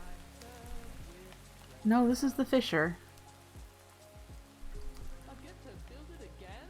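Steady rain in modded Minecraft hisses softly and continuously in the background, with a voice talking over it and a brief louder burst of other game sounds.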